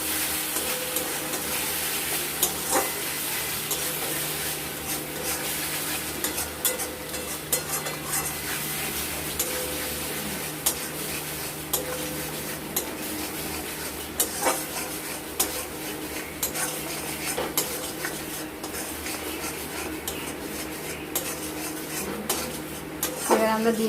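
Pomfret fish curry is stirred in a pan, with a long run of spoon scrapes and metal clinks against the pan over a low sizzle of oil, close by and continuous, with no talking.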